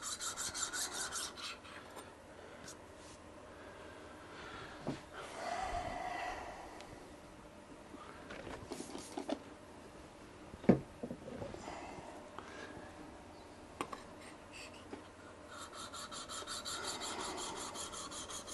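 The back of a steel blade is rubbed flat and polished on an abrasive, making repeated quiet rasping strokes in an uneven rhythm, with some soft knocks and handling noises between passes.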